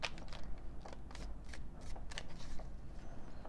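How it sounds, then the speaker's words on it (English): Tarot cards riffle and slap together in a quick run of crisp, close shuffling bursts, with no talking. "I'm going to shuffle these"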